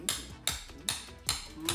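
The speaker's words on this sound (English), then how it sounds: "Now we're going to hammer on our tool." Four sharp metallic hammer blows strike a tool during an engine swap on a Jeep Cherokee XJ with a 4.0 engine, evenly spaced and close, each ringing briefly before the next.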